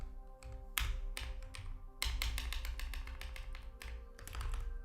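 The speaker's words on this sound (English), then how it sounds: "Noisy keyboard." Loud, clattery computer keyboard typing in quick bursts of sharp key taps, a dense run of strokes with brief pauses between flurries, close and alone without talk.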